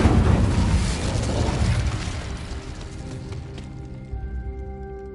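An Incendio fire spell in Hogwarts Legacy bursts out in a loud, roaring whoosh that swells at once and then slowly fades into a quieter hum.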